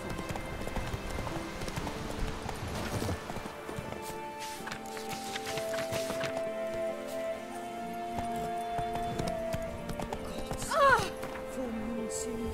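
Roach, the horse in The Witcher 3, clip-clops along at a steady running gait, hooves thudding beneath a wash of game music, with a brief whinny-like flourish near the end.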